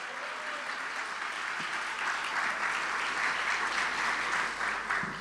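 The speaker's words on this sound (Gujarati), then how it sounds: "બધાને જોરદાર તાળીઓથી આપણે વધાવી લઈએ." A large audience at a devotional satsang gathering gives loud applause, a continuous, full crowd clapping that holds steady across the whole stretch, heard alone without talk.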